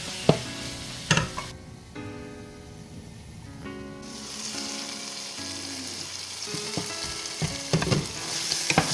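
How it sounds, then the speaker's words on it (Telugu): Two tomatoes fry in a pan for chicken biryani, a close hiss and crackle broken by utensil clatter and tonal clanks, shifting in loudness through the stretch, with no talking. "ఇవి కూడా మంచిగా ఫ్రై అయినాక లిడ్ అయితే పెట్టేసుకోండి"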